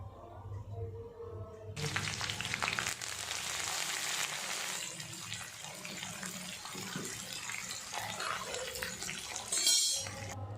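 Water pours into a cooking pot of soaked masoor lentils with turmeric, chili, cumin and coriander powder, a splashing, gurgling stream that starts abruptly, runs for about eight seconds and stops.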